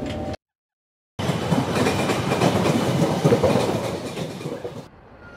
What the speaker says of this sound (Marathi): चला आपली ट्रेन येईल आता